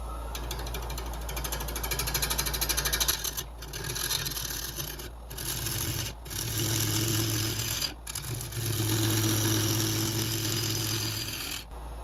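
A wood lathe at 750 RPM turning a walnut bowl with a 5/8 inch Irish-grind bowl gouge, giving a loud continuous mechanical whir and chatter with rhythmic cutting, broken by several brief pauses.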